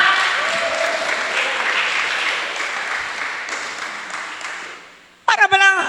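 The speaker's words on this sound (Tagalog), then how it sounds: "Palakpak!" Congregation applause at a church service fills most of the clip, steady and loud, fading near the end before a voice briefly speaks.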